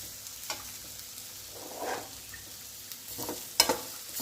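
Bitter gourd stir-fries with masala in a pan, making soft intermittent stirring scrapes and light sizzle at low volume, with a sharper clatter toward the end.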